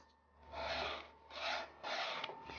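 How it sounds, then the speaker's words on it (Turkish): Sandpaper rasps against painted wood in three long, even back-and-forth strokes, close and clear with short pauses between. "Veya yer yer zımpara kullanırsınız."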